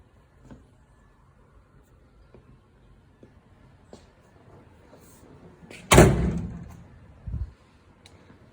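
Door on a 1946 Dodge pickup with old bias-ply tires: quiet ticks, then one loud metallic clunk of the door swinging, followed a second later by a shorter thud as it shuts, no talk.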